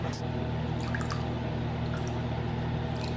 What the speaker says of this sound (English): Once I add a little bit of water,